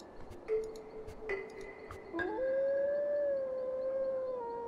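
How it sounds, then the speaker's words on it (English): A long, drawn-out howl from a character in the game Tengami, preceded by a few brief calls and holding steady near and clear to the end. "So only he howled."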